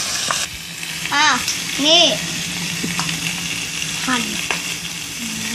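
Pork fries in a pan with a steady, loud sizzle and occasional stirring scrapes, close up, while a voice speaks briefly in between.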